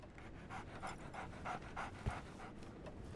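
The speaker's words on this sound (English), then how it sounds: "So, Barnes has a dog now" A dog pants rhythmically in Sherlock Holmes The Awakened video game, quick regular breaths about three per second, soft and close, with a brief thump partway through.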